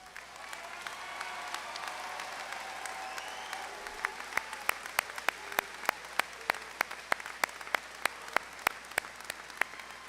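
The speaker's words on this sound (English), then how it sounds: "Please stand up and let us give you a round of applause." A graduation audience at a high school ceremony applauds in a broad, crowded wash of clapping that thins out over time into scattered, sharp individual claps toward the end.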